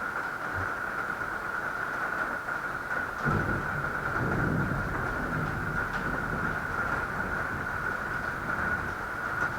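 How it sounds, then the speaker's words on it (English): Steady rain hisses throughout with a persistent hum, and a low rumble of thunder rolls through near the middle. "It's kind of raining now, so excuse the noise."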